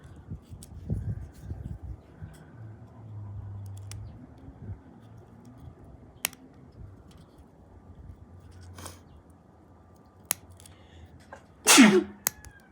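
A single sharp sneeze bursts out near the end over a quiet, low background hum with faint ticks and taps, during miniature basket weaving with clippers.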